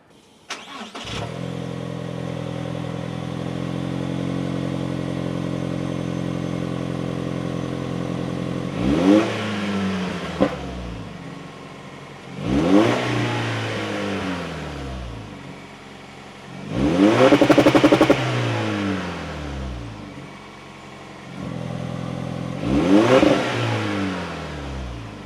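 A Toyota Tacoma pickup truck with stock exhaust idles steadily, then revs hard four times with throaty exhaust, each rev rising and falling back to idle, loud and close.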